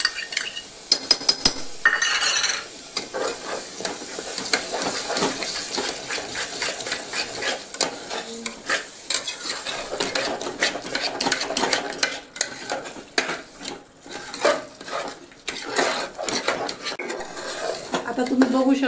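A spoon stirs and scrapes chicken masala gravy with curd (dahi), chilli powder, turmeric and coriander powder in a pan on low heat, giving repeated metallic clinks and knocks over a soft sizzle.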